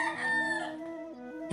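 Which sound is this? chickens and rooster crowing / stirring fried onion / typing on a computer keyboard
chickens and rooster crowing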